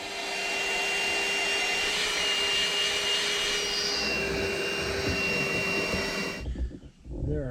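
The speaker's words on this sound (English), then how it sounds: "let me get the vacuum out and start cleaning this up" Vacuum cleaner running loud and close with a steady whine while cleaning a boat, shutting off near the end as it winds down.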